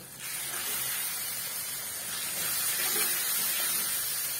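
A little water poured onto frying spice paste of ground coriander and cumin for a chicken curry, bursting into a loud, steady, close sizzling hiss that swells slightly and holds for several seconds.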